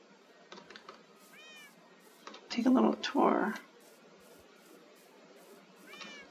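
Several cats meow in a game set in an outback-like area, with a short cluster of rising calls early on and another near the end, under and between a person talking, with a louder burst of rustling and clatter in the middle.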